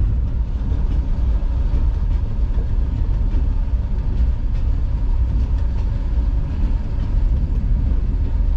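The 12DN Hazara Express passenger train rumbles steadily along the tracks at Baldher railway station between Havelian and Rawalpindi, a loud continuous roar of wheels and engine with no voices.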